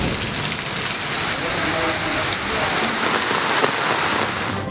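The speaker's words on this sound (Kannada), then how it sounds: "ರಾಜ್ಯದ ಹಲವೆಡೆ ಎಡಬಿಡದೆ ಸುರಿಯುತ್ತಿರುವ ಮಳೆ" Heavy monsoon rain pours down in Kodagu, Karnataka, a loud unbroken hiss of drops drumming on surfaces throughout, with no talk.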